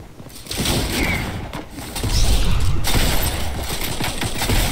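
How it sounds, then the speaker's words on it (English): Loud gunfire and battle noise in the Fortnite video game, a dense burst of shots with rumbling impacts rising and falling over several seconds. "I'm getting shot at."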